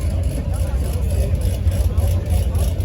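A classic Corvette drives past at a cars-and-coffee meet in South Orange County, giving a steady, loud, low engine rumble that holds through the whole moment, with voices around it.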